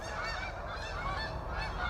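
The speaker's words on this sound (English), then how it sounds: "it's a bunch of goose going overhead" A flock of geese honks while flying overhead near crown land, a steady chorus of overlapping calls at a moderate distance, faint, with no speech.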